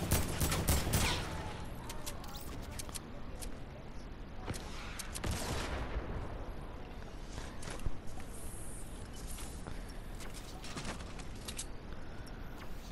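Heavy assault rifle in Fortnite Battle Royale firing in dense, sustained bursts that fill most of the stretch, loud and close, with brief pauses and a steady gamey rumble underneath.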